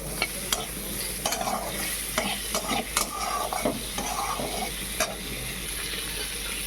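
Raw mango chutney fries with turmeric, chili powder and salt, a steady close sizzle broken by sharp clicks and scrapes of a spoon stirring against the pan.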